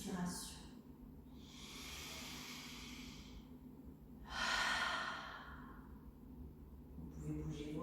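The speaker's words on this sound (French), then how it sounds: "Et prenez une profonde respiration." Two slow, deep breaths, a long inhale then a stronger exhale, close and soft in a quiet sophrology relaxation session, with no talking.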